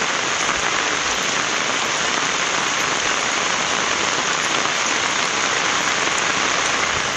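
Heavy rain pours steadily across towns of Tamil Nadu such as Maraimalai Nagar and Mamallapuram, a dense unbroken hiss of drops striking surfaces with no letup.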